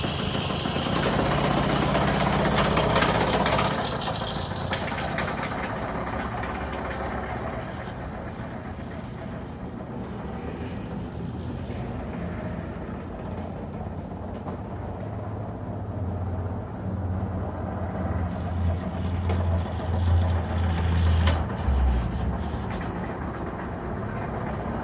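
A small engine on a motorized wooden three-passenger trike chugs steadily throughout the ride, louder at first and then a lower, rougher idle-like hum that swells and fades slightly, with no talking.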